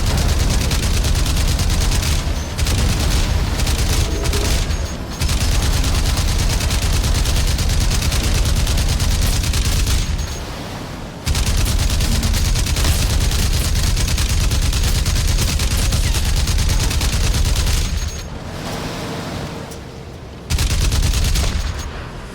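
Sustained gunfire in the Crysis video game, dense rapid automatic bursts and booming shots pounding almost without pause, loud and close, broken by a few brief lulls.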